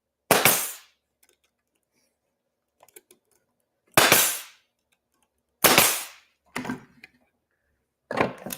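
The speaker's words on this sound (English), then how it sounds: "And the kiddos could be nailing these together." Small galvanized four-penny box nails are driven into wood for a shop-made pumpkin, heard as four sharp, close hammer blows spaced about a second and a half apart. A lighter tap and a few faint clinks fall between them.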